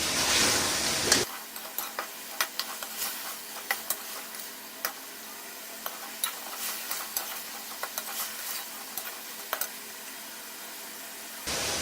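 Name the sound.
ginger frying for chicken karahi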